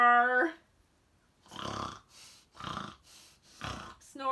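A voice imitates Piggy's loud snoring with three long, rasping snores spaced about a second apart, close up, after a brief spoken word at the start.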